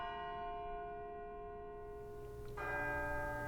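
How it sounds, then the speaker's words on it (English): A clock bell strikes midnight in Kingdom Hearts Birth By Sleep, a sustained ringing bell tone lingering and decaying, then a fresh strike near the end, heard over a soft low musical backdrop. "I think that bell has definitely struck more than 12 times now"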